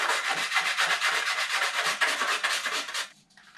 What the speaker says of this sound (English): So I'm actually making some scratches in the metal here